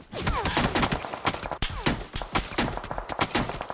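Rapid gunfire in the mobile battle royale PUBG Mobile, dense bursts of automatic shots and single cracks overlapping in a continuous fusillade with no talk.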